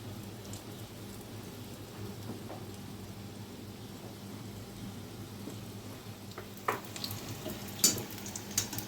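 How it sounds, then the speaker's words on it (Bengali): Lentil fritters made with masoor dal sizzle in hot oil, a soft steady frying hiss with a few sharper crackles and pops toward the end, no talk over it. "অল্প অল্প করে আমি ভেজে নেব।"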